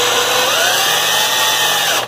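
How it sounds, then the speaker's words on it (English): A power drill spins the flywheel of a Thunder Tiger EK4 RC truck engine, giving a loud, steady high-pitched whirring at close range that cuts off abruptly at the end. "I'm gonna turn it with my drill."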